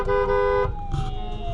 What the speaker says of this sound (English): We got a little honking game going on here.